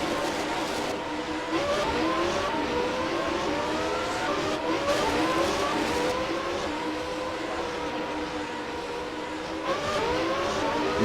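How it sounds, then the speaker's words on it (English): D-Tech race car at a 2015 Abu Dhabi circuit practice session working around a hairpin, engine note rising and falling through repeated gear shifts and revs at moderate distance, steady and continuous. "James Lang wrestles that D-Tech car around the hairpin"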